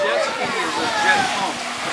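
Steady, loud rushing spray of water forced through a big hose from a jet ski, roaring continuously with a broad hiss and churning splash as a rider is propelled above it.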